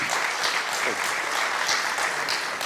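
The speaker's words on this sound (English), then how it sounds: "Please give Johnny a big round of applause" A crowd at a Republican gubernatorial forum gives a sustained round of applause, even, continuous clapping heard from within the hall.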